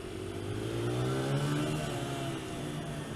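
A flat track motorcycle engine revs in second gear heading into the first corner, a close, steady droning whine with rising and falling harmonics over a few seconds.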